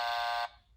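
A short electronic buzzer blares steadily for about half a second and then cuts off, the incorrect-answer signal in a music lesson quiz game.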